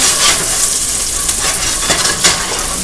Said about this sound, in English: ginger in the oil, and just stir fry